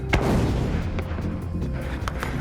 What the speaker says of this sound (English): gunshots began to ring out, sparking a fierce battle between terrorists and Marines.